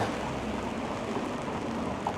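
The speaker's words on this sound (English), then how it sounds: "Now we can hear the sounds of rain as I walk through Chinatown." Steady rain patters on an umbrella while walking through a Chinatown street in Toronto at night, a dense, even hiss of drops with occasional louder taps, continuous and fairly close, with no voices.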